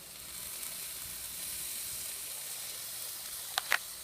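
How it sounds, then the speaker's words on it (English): Chicken with Thai cilantro seasoning sears on a hot grill, giving a steady, quiet high hiss of sizzling that runs throughout, with two brief sharp pops near the end. "We can go ahead, give it kind of a sear on the outside"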